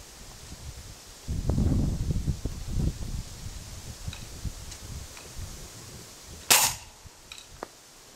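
A 4.5mm air gun fires one sharp, loud crack about two-thirds of the way through, following a stretch of wind rumble and rustling, with a few faint ticks after the shot.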